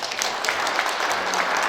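An audience at a breakfast lecture applauds a professor, with steady, dense clapping from a room full of people filling the whole moment.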